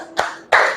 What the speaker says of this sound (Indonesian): Aplaus untuk Peros.